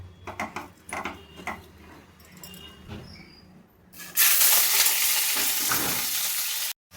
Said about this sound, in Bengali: এবার আমি বেরেস্তাগুলো ভেজে নেব।